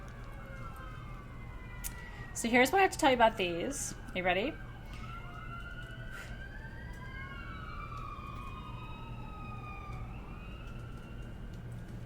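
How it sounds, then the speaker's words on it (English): A siren sound effect plays during a live gemstone sale: wavering, sweeping tones that stay fairly faint and steady in the background after a short burst of talking at the start. "Cue siren."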